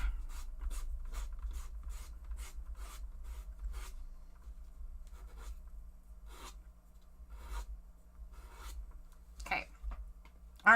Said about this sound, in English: I'm going to pull out a little strip of sandpaper and clean a bunch of that off